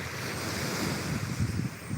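Cool wind gusts and waves wash steadily at Saeng Chan beach, a continuous, full rush of surf and wind noise buffeting the microphone, with no voices.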